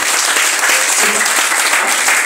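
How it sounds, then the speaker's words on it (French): Applause at a church service in a congregation's hall, steady dense clapping from many hands filling the whole stretch at close range, with no voices standing out. "On applaudit le premier s'il vous plaît."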